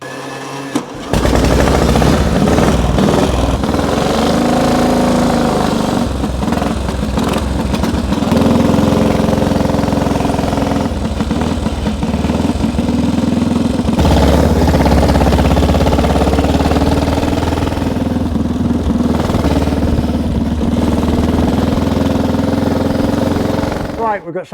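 A restored vintage motorcycle, either a 1930 Sunbeam or a 1935 Triumph twin with hand-change gearbox, runs on its auxiliary tank, giving a loud, steady, rapid thumping engine beat with brief revs and changes in rhythm, starting after a short pause.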